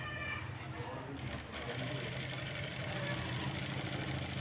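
Sewing machine with a two-sided presser foot stitching a seam along one edge, a steady close mechanical whir running throughout, with a voice speaking over it.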